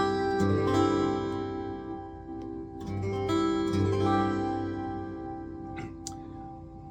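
An acoustic guitar in a lowered tuning is strummed a few times, and each full, ringing chord decays slowly before the next strum; nearby and clear, with no talking.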